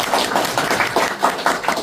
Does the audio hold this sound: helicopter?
no